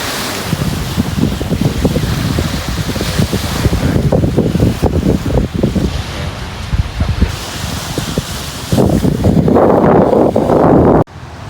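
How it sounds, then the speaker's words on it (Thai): Sea waves washing ashore at Cha-am beach in Thailand in the evening, a continuous loud surf roar with heavy wind buffeting the microphone and a sharper rush of surf near the end. "บรรยากาศที่ทะเลชาตอนเย็นๆนะครับ"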